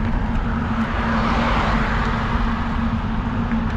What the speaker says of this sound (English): Why do people have to have such loud motors?